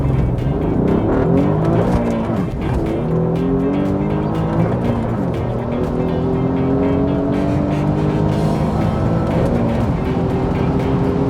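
Remapped Alfa Romeo Giulia Quadrifoglio in race mode launches hard down an airport runway, engine roaring and climbing through repeated gear changes with tire squeal, loud and close throughout.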